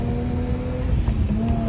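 A 700-horsepower single-turbo BMW 335i E90 drives through Los Angeles streets, heard from the passenger seat as a steady close engine drone with a faint high turbo whine and layered low rumble throughout.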